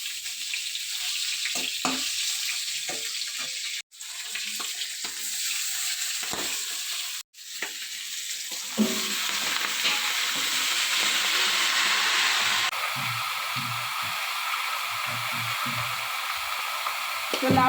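Bottle gourd curry (lau ghonto) with salt and turmeric sizzling in a pan: a steady bright frying hiss for most of the clip, briefly cut out twice, with soft clinks and stirring noises, no talking.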